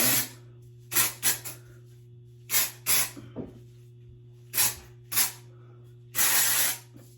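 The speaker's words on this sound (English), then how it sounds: "this is the Batiste dry shampoo" Batiste dry shampoo sprays onto hair in a series of short, sharp hissing bursts, some doubled, separated by quiet gaps.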